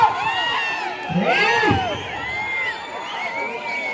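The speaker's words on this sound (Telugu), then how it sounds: "కేకలు చెప్పట్లు" A crowd cheers and shouts together at an outdoor village bullock cart race in the farming section, voices rising in a loud swell mid-way and continuing steadily at a distance, with a commentator talking over it.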